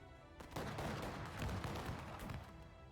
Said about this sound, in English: Some more missiles coming my way.